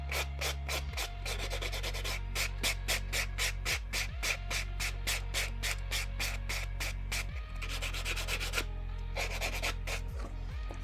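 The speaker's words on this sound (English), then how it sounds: "And you can come over with a buffering block." Buffer block rubbed back and forth over fingernails in rapid, steady scratchy strokes, close and loud, with a low hum underneath and no talking.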